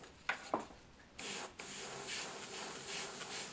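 A spray bottle mists water onto a watercolor painting of a rose, two quick spritzes followed by a longer, steady hissing spray, soft and close.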